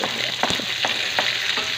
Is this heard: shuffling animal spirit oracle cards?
no